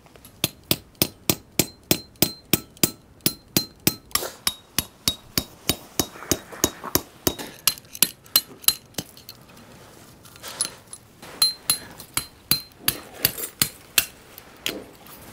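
Rapid, steady metallic hammer strikes drive tent pegs into the ground while a hammock tent is pitched, about thirty sharp close blows in a regular rhythm, pausing briefly near the middle before resuming.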